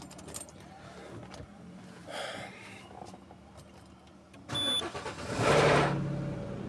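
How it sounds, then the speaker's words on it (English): A car engine cold-starting: keys rattle and a starter cranks briefly, then the engine catches and settles into a loud, high idle, recorded close with no talking. "you see, the engine has started."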